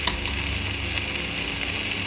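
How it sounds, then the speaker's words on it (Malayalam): Cooked chicken added to a hot frying pan, a loud, steady sizzle and hiss close by with a brief clatter at the start, continuing evenly, no talk. "ഇനി നമുക്ക് ഇതിലേക്ക് വേവിച്ച് വെച്ച് ചിക്കൻ ആഡ് ചെയ്ത് കൊടുക്കാം"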